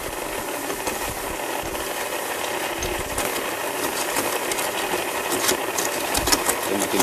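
A mixer churning liquid nitrogen ice cream grinds and rattles continuously, its motor labouring and uneven as the mix stiffens, loud and close with no talk.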